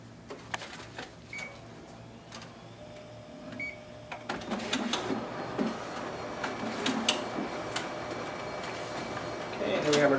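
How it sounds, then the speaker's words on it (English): A Ricoh MP C2800 copier's document feeder pulling test copies through, a mechanical whir and rolling rattle that starts partway in and builds, with clicks and faint speech nearby. "here we have our document feeder working properly"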